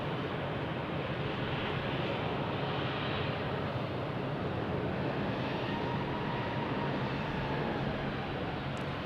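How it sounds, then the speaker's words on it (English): An American Airlines Airbus A319 jet at Phoenix Sky Harbor gives a steady, broadband engine roar that holds at an even, fairly faint level throughout, with no talk over it. "American Airlines,"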